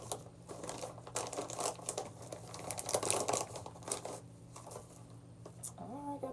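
Plastic packaging around a beauty product from a FabFitFun spring box crinkles and crackles close by in busy irregular bursts as it is unwrapped, with a few quieter gaps and a faint tonal sound near the end.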